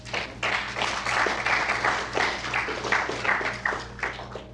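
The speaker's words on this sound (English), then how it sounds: "I think it's worth a round of applause." Applause in a drug court for a participant marking 70 days abstinent: a small group clapping steadily, moderately close, a few seconds of scattered overlapping claps over a low hum.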